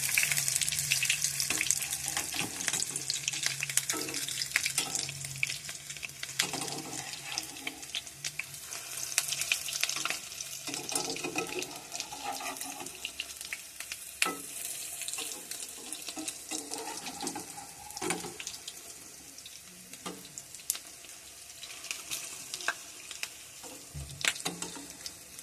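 Fish roe fritters frying in oil in a pan, a continuous bubbling sizzle with intermittent scrapes and taps as they are turned, close and moderately loud, with no voices.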